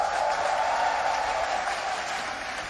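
A UK esports audience applauding, a steady, dense wash of clapping and crowd noise at moderate distance that fades slightly toward the end, with no talk over it.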